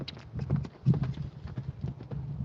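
A working horse's hooves clip-clop in a steady walking rhythm during training, close by and distinct, with a faint snort and quiet background noise between the footfalls.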